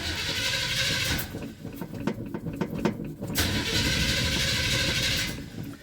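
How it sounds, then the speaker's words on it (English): A 1978 GMC truck with a carbureted engine cranks in a loud, choppy rhythm for about two seconds, then catches and settles into a steady, rough, close running roar. No one speaks. "Let's see how quick this 78 GMC truck starts."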